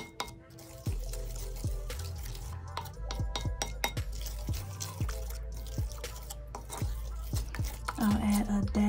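A bentonite clay face mask mixture stirred in a bowl: a string of close clinks and scrapes with a wet, dripping texture, moderately loud and continuous, without talking.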